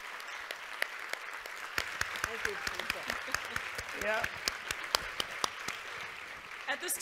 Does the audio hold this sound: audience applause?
yes